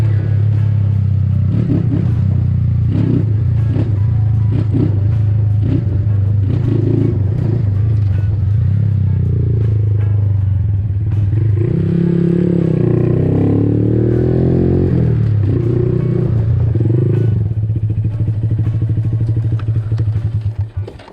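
Honda Grom motorcycle being ridden, its small single-cylinder engine droning steadily and close throughout, with revs rising and falling mid-ride and some rattling clatter.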